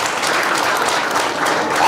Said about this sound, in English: clap for the President of this Republic.